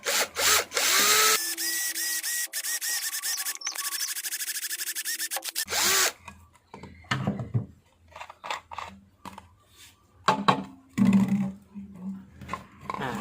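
A power drill whirs loudly and steadily for several seconds close by, drilling into a plastic bottle cap, then stops, followed by quieter handling clatter and scraping.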